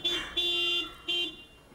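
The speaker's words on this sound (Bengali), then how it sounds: "গাড়ির হর্ন শোনা যাচ্ছে, তার মানে এসে গেছে।" A car horn sounds to signal someone arriving, giving three short toots with gaps between them, faint and a bit distant.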